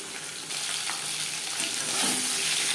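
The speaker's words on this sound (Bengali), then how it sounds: "মাছ আমি একেবারে হালকা করে ভেজে নেব" Shing fish sizzles lightly in mustard oil in a pan, a steady bright hiss of frying that holds at an even level and grows slightly louder toward the end, with no talking.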